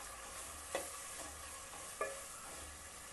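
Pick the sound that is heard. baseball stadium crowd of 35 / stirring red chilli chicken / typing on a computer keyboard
stirring red chilli chicken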